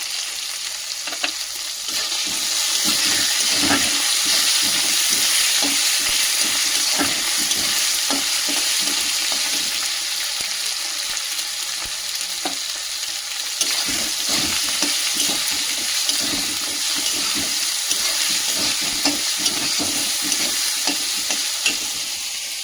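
Turmeric and cumin powder fry in hot oil in a home kitchen, making a loud, continuous sizzle with repeated scraping stirs throughout.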